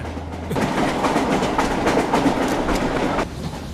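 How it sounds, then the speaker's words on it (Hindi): Train from a dubbed South Indian movie scene, running on the rails with a steady rumble and rhythmic clickety-clack as it slows for a red signal, loud and continuous with no talk. "सर, सिग्नल रेड है, ट्रेन स्लो हो रही है सर।"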